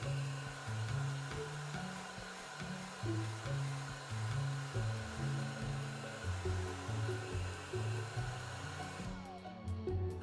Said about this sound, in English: now that I'm done blow drying Andrew's hair